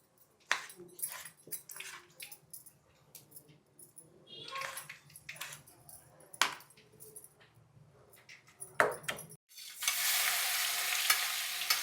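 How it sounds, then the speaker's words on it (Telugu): Garlic frying in a pan with scattered, uneven stirring and scraping clatters over a faint sizzle, then a sudden loud, continuous hiss of frying fills the last couple of seconds. "ఈ లోపల అది వేగుతుంది కదా, ఇంకొంచెం దోరగా వేగాలి"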